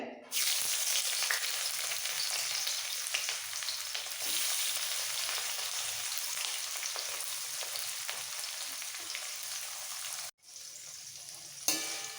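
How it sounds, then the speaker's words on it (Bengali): Loud, continuous sizzle of chopped onion frying in hot oil for lentil dal, close up, with a brief break near the end before the hiss resumes. "সব পেঁয়াজটা দিয়ে দিচ্ছি তেলের মধ্যে"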